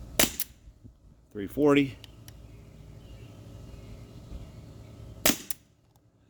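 Two sharp shots from an Umarex H&K VP9 T4E .43 caliber pistol fired outdoors, one at the start and one about five seconds later, with a brief spoken number between them.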